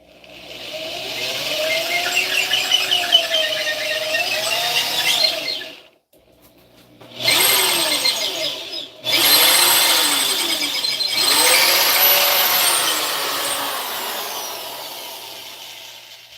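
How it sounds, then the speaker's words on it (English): A power drill bores into a pipe, its bit squeaking and squealing in long steady runs with wavering pitch, loud and close, broken by a couple of brief pauses. "by that squeaking, I'm guessing this drill bit has drawn astray"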